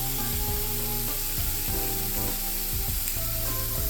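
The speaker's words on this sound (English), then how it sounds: "We want to let that side cook and sizzle and get a nice color before we're ready to flip it." A ribeye steak sizzles loudly and steadily in a hot pan, a dense continuous frying hiss with faint tonal hum underneath, no talking.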